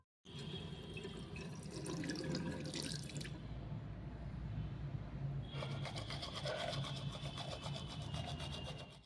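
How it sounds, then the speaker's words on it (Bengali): A tap runs steadily at a sink while someone washes their face at home, a continuous close hiss of flowing water with splashing and shifts in the stream partway through. "মুখ ধোয়া কমপ্লিট হয়ে গেছে"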